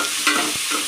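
Tomatoes and green chillies for prawn curry sizzle in a pan under a couple of quick stirring strokes, a brief, fairly loud burst of frying hiss.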